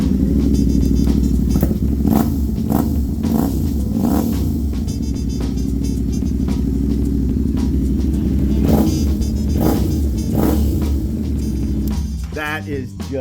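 A loud 2022 Yamaha YZF-R7 Anniversary Edition sport motorcycle engine revs again and again in quick bursts over a steady throaty idle, close by, with no talk.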